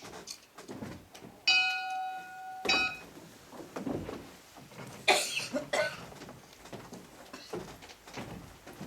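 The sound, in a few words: school dismissal bell ringing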